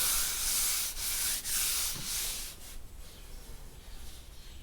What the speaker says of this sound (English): Here's all my repair areas sanded with the 2-part glaze and putty